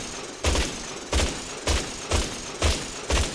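A Wasteland Chaingun, a raider minigun mod in Fallout 4, fires in six heavy, evenly timed bursts, each a loud thumping blast over a constant roar of noise.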